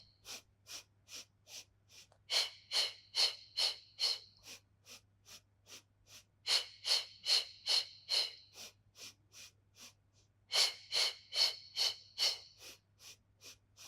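Rhythmic breathing during a Pilates core workout, a steady series of close, breathy inhale and exhale puffs that swell into louder, longer bursts in three clusters, with no talk.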